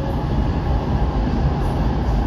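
WMATA Metrorail 7000 Series subway train running on the Orange/Blue line toward Clarendon station, a steady loud rumble of wheels and motors heard from inside the car, continuous with no talk.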